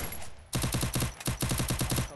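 Rapid bursts of automatic gunfire in a shooting video game, starting abruptly after a quiet moment and continuing in tight, loud volleys with brief gaps between them.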